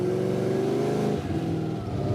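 A car engine accelerates with a steady rising drone, close and loud, then eases into a lower rumble.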